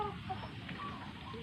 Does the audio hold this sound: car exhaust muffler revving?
no